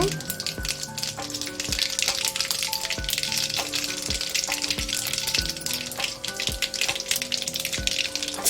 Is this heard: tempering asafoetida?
yes